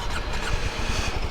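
A Kawasaki Ninja 125 motorcycle engine runs at a steady idle, a close, rapid low-pitched putter with no speech.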